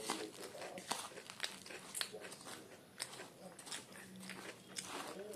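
Home food being bitten and chewed at a family meal, with repeated close crunchy bites and mouth sounds at an irregular pace, plus light rustling in the background.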